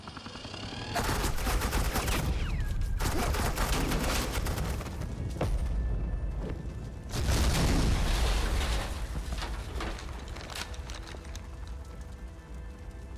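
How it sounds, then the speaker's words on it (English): Suppressing gunfire erupts in Batman The Enemy Within, loud dense bursts of rapid shots in two long volleys with a short lull between, no speech. "This is Agent Quinn, suppressing fire."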